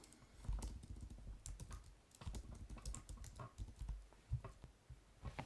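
Quick, irregular keystrokes on a computer keyboard as a command is entered in a Linux terminal, close and moderately quiet, with no speech.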